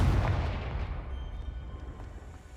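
A Confringo spell explosion in the video game Hogwarts Legacy: one loud, deep blast at the start that rumbles and fades over a couple of seconds.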